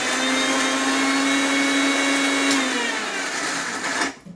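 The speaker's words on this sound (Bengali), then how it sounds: "আমি প্রথমে একটু এটাকে শুকনো গুঁড়িয়ে নিচ্ছি" A mixer grinder dry-grinding spices, a loud close whine that holds steady, then drops in pitch as the motor slows and cuts off near the end.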